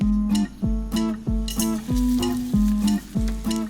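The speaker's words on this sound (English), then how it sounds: "fry the aubergines." Aubergine slices fry in olive oil in a hot frying pan, giving a loud, steady sizzle that pulses in repeated bursts as the slices settle, with no talking.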